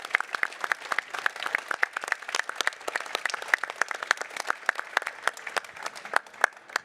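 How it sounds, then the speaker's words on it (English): A crowd at a robotics competition award ceremony applauds with sharp, distinct claps that pile into a lively, sustained patter of many hands. "So could we have an applause for them?"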